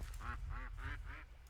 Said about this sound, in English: We might actually just throw a duck or 2 down here.